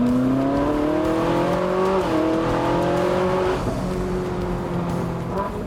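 A Ferrari 458 Spider's 4.5-litre V8 revs hard and loud, its pitch climbing in long sweeps, briefly dropping between gear changes, then rising again toward a high-revving wail, with no talk over it.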